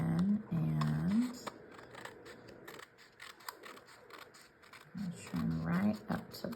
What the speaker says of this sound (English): trim right up to the piece